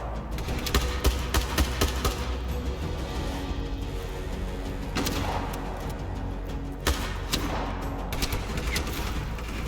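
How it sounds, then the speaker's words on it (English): Sustained gunfire from a shooter video game, with scattered crackling shots and bursts over a dense, noisy battle background, fairly loud throughout. "They're shooting at me."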